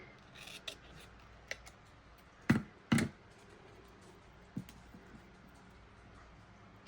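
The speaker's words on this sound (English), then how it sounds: "I'm just going to trim this." Scissors snip through printed acetate at a crafting table, with a few sharp, close cuts, two of them louder and near together, in an otherwise quiet room.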